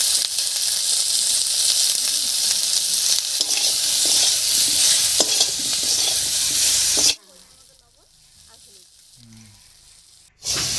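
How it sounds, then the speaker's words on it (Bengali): Loud, close sizzling of cauliflower frying in a hot pan with scraping stirs, the hiss cutting off abruptly near the end, leaving quiet clatter. "ফোরনের উপর ফুলকপিটা দিয়ে একটু নাড়িয়ে নিয়েছি"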